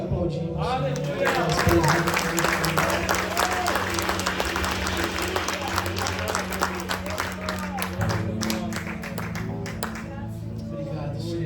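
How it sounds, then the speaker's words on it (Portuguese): Church congregation applauding together during a worship service: dense, sustained clapping fills the room for about ten seconds, with voices calling out over it. "Te aplaudimos."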